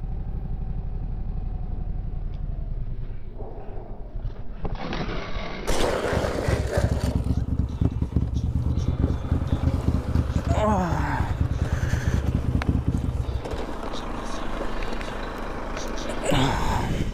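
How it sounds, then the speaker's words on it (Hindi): A motorcycle engine revs and roars up close through a ride that ends in emergency braking and a crash, with a loud, dense mechanical rumble and a voice talking over it. "बाइकर जो इमरजेंसी ब्रेक लगाता है और बाइक क्रैश हो जाता है"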